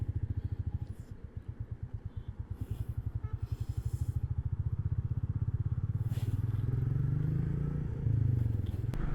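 A green Royal Enfield Meteor 350 Fireball motorcycle thumps along with a rapid, steady single-cylinder pulse, heard close with wind noise, building into a louder, fuller rumble near the end.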